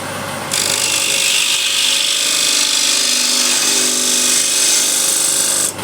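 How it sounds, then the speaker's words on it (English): A power router cuts a round-over edge along a wooden picture frame, starting with a sharp onset and then holding a loud, steady, high-pitched whine of the bit biting into the wood for several seconds, close and alone. "I'll go with the round over first"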